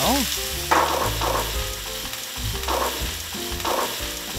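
Batter of mugwort, chili pepper and squid mixed with pancake flour sizzles steadily in a frying pan, a continuous close crackle with occasional stirring or scraping noises on top.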